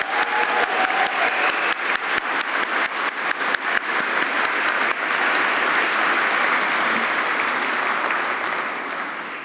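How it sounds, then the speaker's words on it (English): Sustained applause from a graduation ceremony crowd at the International College of Management, dense and steady with individual sharp claps standing out early on, continuing strongly for several seconds before slowly thinning. "Can we have a round of applause again?"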